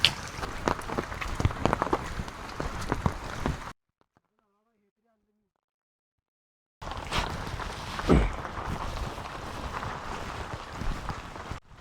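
Steady, dense hiss of heavy monsoon rain pouring close by on a trek to Tikona Fort, broken by a few seconds of complete silence midway before the downpour resumes just as loud.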